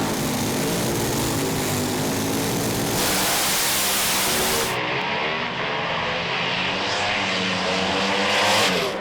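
A dragster at the Westernationals drag racing meet in Perth streaks away down the strip at around 378 km/h, a loud, sustained engine roar with a sharp shift partway through that fills the whole stretch.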